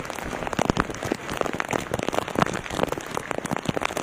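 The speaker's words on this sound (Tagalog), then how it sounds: "Yeah, umuulan oh. Shoutout, Luzon ng Caloocan City, lakas ng ulan." Heavy rain pouring down in Caloocan City, Luzon, a loud dense patter of drops striking surfaces nearby, continuous and without talk.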